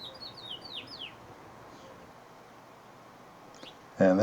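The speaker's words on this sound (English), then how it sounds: "And there's a finch in a tree." A male finch chirps from a tree at Cactus Hill, New Mexico, a quick series of high, thin call notes near the start over steady wind noise, then a faint call and a louder thump at the end.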